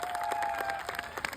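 An audience at a direct-selling event applauds Sanjeev Kumar with brief, dense clapping at moderate loudness, a single sharp clap standing out near the end.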